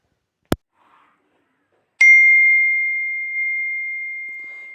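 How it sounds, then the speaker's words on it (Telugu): An iPhone ringtone plays from a ringtone app on a mobile phone: a sharp click, then a clear, bright sustained tone that rings out and slowly fades, heard alone. "ఇది ఐఫోన్ రింగ్ టోన్ ఫ్రెండ్స్."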